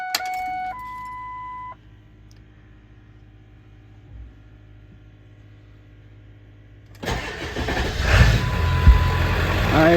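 A Ford 7.3 Powerstroke diesel cranks and catches after a quiet pause following key chimes, then settles into a loud, rough, rumbling run close by.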